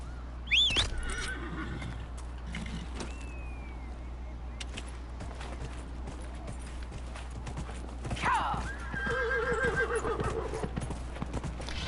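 In the video game Dragon Age: Inquisition, a horse neighs loudly at the start and again later, with steady clip-clopping hooves throughout over a low ambient hum.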